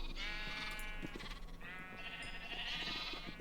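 Sheep bleat continuously on a Minecraft farm, two long wavering cries close together and loud, with no talking.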